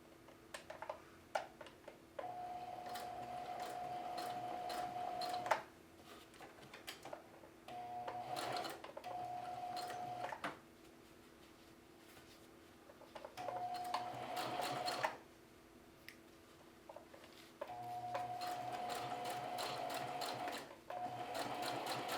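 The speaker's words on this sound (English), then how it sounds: "So I'm just going to do a little bit of sewing all the way around" A sewing machine stitches around a jeans front pocket in several separate runs, each a steady, close mechanical whir that stops and restarts after short pauses.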